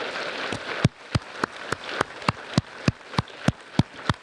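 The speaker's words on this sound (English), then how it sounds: "Big round of applause for our 11th grade students." Audience applause for 11th grade students at a 2024 high school underclassman awards ceremony: a dense crowd clapping steadily throughout, with sharp, regular loud claps standing out every fraction of a second near the front.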